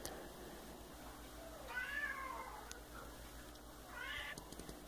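A pet cat meows twice indoors, two drawn-out cries a couple of seconds apart, moderately close over a quiet room hum.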